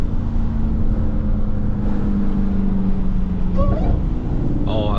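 A Dodge Charger Hellcat, heard from inside while driving in the rain, gives a steady engine drone with quick downshift blips rising in pitch near the end, and a brief voice is heard.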